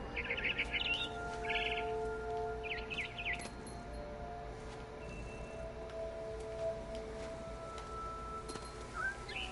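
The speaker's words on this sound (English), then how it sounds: "Then I heard chirping outside my window. It was a barn swallow going back to her nest." A barn swallow chirps in short bright bursts near a window in the video game What Remains of Edith Finch, its calls rising over a quiet ambient hum.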